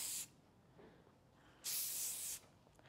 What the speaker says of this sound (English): you cannot, in my opinion, overuse this hairspray, the shaping spray